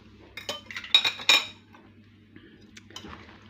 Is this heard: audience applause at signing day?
no